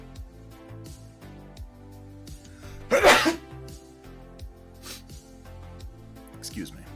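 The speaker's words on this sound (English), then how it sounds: "I'm gonna sneeze" A single loud sneeze bursts out near the middle of a quiet indoor hobby room where miniatures are being built, standing out sharply over faint background sounds.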